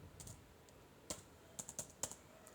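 Brief close keyboard typing while writing code, with a few sharp, separate key clicks in a quick cluster against a quiet room, no talking.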